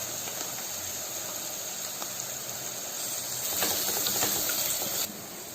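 Onions sautéing in a hot pan with star anise for vegetable fried rice produce a constant, close sizzling hiss that swells louder for a moment before settling back to a steady sputter.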